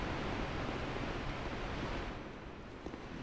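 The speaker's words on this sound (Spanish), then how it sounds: "Oigo mar, ¿eh?" Broadband rushing sea surf in the Dark Souls 2 game, a steady wash of waves filling the whole short stretch with no voices.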